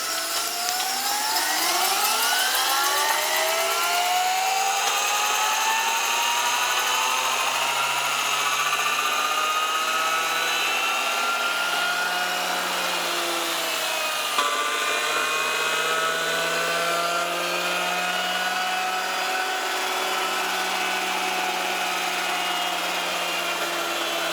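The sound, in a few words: electric car motor running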